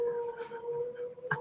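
A dog howls in a long, wavering, sustained tone, close and fairly loud, with a brief rustle near the end and no speech.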